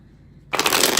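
Tarot cards shuffled by hand, a sudden close, loud burst of rapid riffling that starts after a short quiet moment and continues to the end, no voice.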